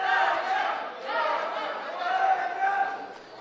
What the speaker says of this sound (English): The crowd chanting for Dania